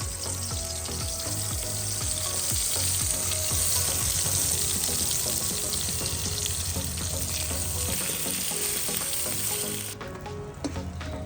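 Food frying in oil at a night-time rooftop village picnic, a steady close crackling sizzle running throughout with faint clinks, dropping off sharply near the end.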